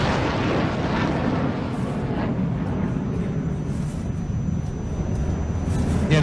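A jet aircraft roars overhead at the Dubai Air Show, a loud continuous rushing rumble that stays broad and steady throughout.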